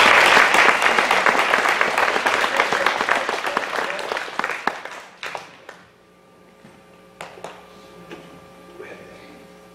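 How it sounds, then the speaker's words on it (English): Applause from a congregation at a prayer service, full and sustained for several seconds over some talking, then thinning into scattered claps and fading into near quiet. "so let's give him a round of applause."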